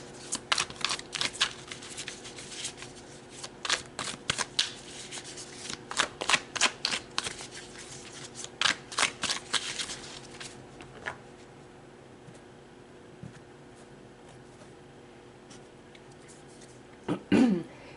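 Tarot cards are shuffled by hand in quick riffling bursts and flicks, close and quiet, for about ten seconds. A stretch of near-silence follows, and a brief throat-clearing sound comes near the end.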